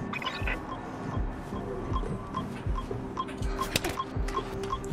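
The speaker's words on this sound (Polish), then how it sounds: "Słyszę coraz większe pikanie." Beeping builds in Mirror's Edge Catalyst as short, evenly spaced electronic pips repeat over a bed of dull, throbbing low thumps and faint hum.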